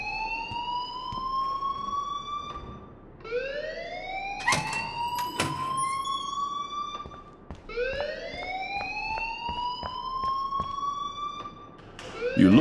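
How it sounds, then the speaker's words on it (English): An alarm in the video game Life Is Strange wails in rising, siren-like sweeps that repeat about every four seconds, loud and up close. "please turn off that alarm since that's your job"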